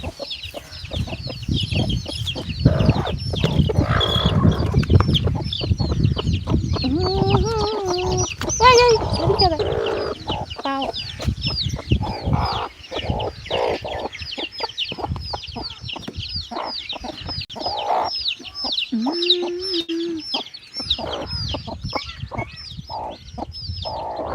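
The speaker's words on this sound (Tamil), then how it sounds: "பார்த்தீங்களா கோழி சுத்தமாகவே கேட்குது" Many chickens cluck continuously at close range, a dense busy chatter with occasional louder squawks and a rooster-like call rising above the flock.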